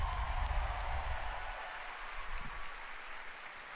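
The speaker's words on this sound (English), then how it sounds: "Another round of applause, please," Audience applause at the Bethesda E3 2019 showcase, a broad wash of clapping from a large crowd that is strongest at the start and slowly thins out.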